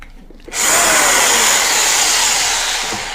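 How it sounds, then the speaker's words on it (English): A low-wattage electric jigsaw with a dull blade starts up after a brief quiet moment and runs steadily at close range, a loud continuous buzzing whine that holds for about three seconds. "let's go ahead and grab the jigsaw"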